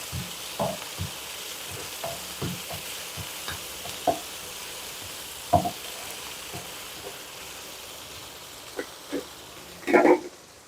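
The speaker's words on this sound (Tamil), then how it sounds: "கொஞ்சம் இஞ்சி பூண்டு பச்சை வாசனை போகிற வரைக்கும் வதக்கிக்கலாம்." Ginger garlic paste sautéing in a pan for paneer pasta, with a soft background sizzle and scattered spatula taps and stirring knocks, plus a louder clatter near the end.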